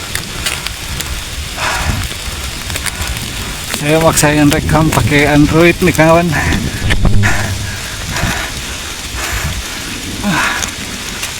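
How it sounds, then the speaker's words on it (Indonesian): Heavy rain pours steadily throughout on a mountain climb, a dense hiss, while someone speaks briefly in Indonesian over it. "Walaupun hujan masih deras"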